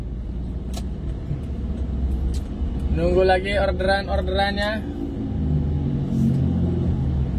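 A morning traffic jam on MT Haryono road in Jakarta gives a low, constant rumble of idling and creeping vehicle engines, with someone talking briefly over it midway.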